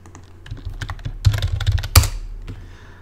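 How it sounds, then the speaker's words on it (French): Fast, forceful typing on a computer keyboard while building an interface in Unreal, with a dense flurry of close key clacks, a heavy slam near the middle and a few trailing taps, with no voices. "je bourrine sur le clavier"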